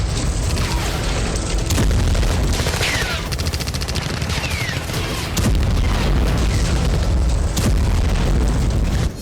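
Heavy booms and rapid bursts of gunfire from the Kursk battle in the Russia-Ukraine war roll on continuously, loud and dense, with no voices over the battle noise.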